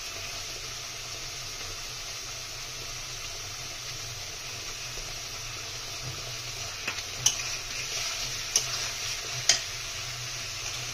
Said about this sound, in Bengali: মশলাটা ভালোভাবে কষিয়ে নাও। টমেটো কুচিগুলো দিয়ে দেবো।